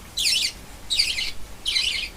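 A budgerigar gives three bright, harsh chirping squawks at even intervals while feeding on fresh leafy greens, fairly close and otherwise alone over a quiet background.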